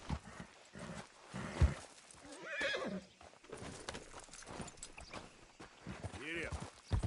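A horse in the video game Red Dead Redemption 2 whinnies and trots, with clip-clop hoofbeats and a loud neigh near the end over scattered game sounds.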